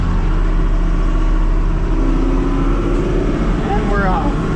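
A farm tractor's engine runs steadily close by with a deep low rumble, and its pitch climbs near the end as it revs to pull away, with a voice talking over it.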